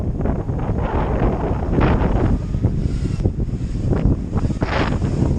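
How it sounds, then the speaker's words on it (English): Strong wind buffets the microphone during the maiden flight of an Eachine Wizard X220HV racing quadcopter, a loud, continuous rumbling roar with irregular gusts and bursts throughout. "It's very windy."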